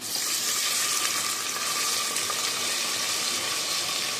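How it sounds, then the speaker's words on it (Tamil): Chopped onions and coriander sauté in hot oil for a dried-meat mutton gravy, making a loud, continuous hissing sizzle up close that stays even from start to end, with no voices. "ஒரு கொத்து கொத்தமல்லி 2 சேர்த்து நல்லா வதக்கி எடுத்துடுவேன்"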